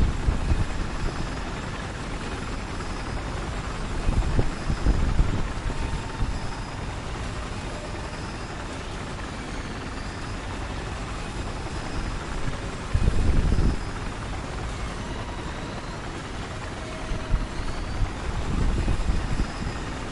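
Helicopter rotor and engine noise from a PS4 video game, a steady whirring drone with a few louder low thumps, heard alone with no talking.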